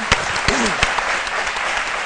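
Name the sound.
applause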